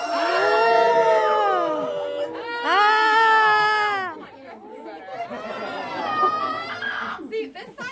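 A tour group at the Mystery Spot in Santa Cruz screams loudly together in several long, high-pitched bursts, with wavering shrieks and some laughter, fading into scattered chatter at the end.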